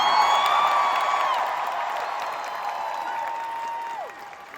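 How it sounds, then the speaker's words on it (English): A D23 Disney Parks and Experiences Showcase audience roars with sustained applause and cheering, a dense crowd wash that stays steady before tapering off near the end. "by the sounds of the crowd, we have some fans here."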